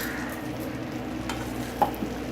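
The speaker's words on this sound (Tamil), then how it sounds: "நெய்யை கலந்து விட்டுட்டே அந்த பேஸ்ட்டை போட்டு விடுங்க அப்போ தான் மேலே செதறாமல் இருக்கும்" Ripe mango paste cooks in ghee for mango halwa, a steady low sizzle with soft scraping from stirring and a couple of brief clinks, close and continuous.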